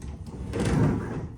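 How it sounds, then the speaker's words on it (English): Old closet doors in a corner bedroom slide along their track in one smooth rumbling pass, close and fairly loud, with no talk. "I like these closet doors and they function."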